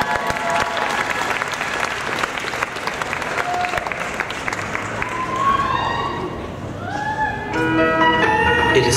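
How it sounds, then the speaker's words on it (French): Loud, sustained applause from an audience at a cosplay contest selection during a convention, a dense steady clatter of clapping throughout, with a voice speaking over it and a few musical notes rising near the end. "Allez, on l'applaudit très fort"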